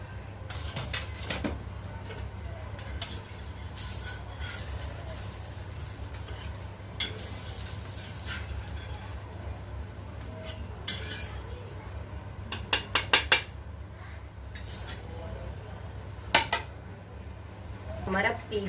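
Steel utensils and dishes clink and clatter during kitchen cleanup while a pan gently sizzles on a low flame, with a steady hum underneath and a quick cluster of sharp metallic clinks near the end.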